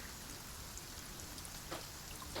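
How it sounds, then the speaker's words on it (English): Steady rain falls during a turn-based battle in the fantasy strategy game Battle Brothers, a continuous soft hiss of drops with a couple of slightly louder splashy patches, heard alone without talk. "It's raining as well, which isn't fantastic."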